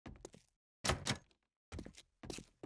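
A locked loot container being broken open in 7 Days to Die, heard as a series of heavy thunking hits in separate bursts with short silences between them.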